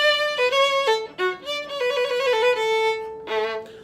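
A bowed string instrument plays a Boccherini Minuet phrase with a grace note and trill ornament, quick ornamental notes followed by longer held tones, close and unaccompanied.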